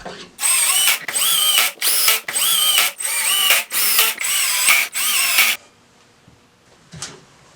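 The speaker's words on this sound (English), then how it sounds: "I used a right-angle drill attachment instead" A power drill with a right-angle attachment whirs in seven loud, close bursts, its pitch rising and dipping as it drives wood screws, then stops; one faint knock follows.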